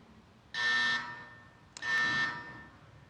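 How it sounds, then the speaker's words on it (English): Debate timer buzzer sounding twice, two loud electronic rings about a second apart, the first lasting half a second and the second somewhat longer, with no voices. "May we get a sample buzzer ring"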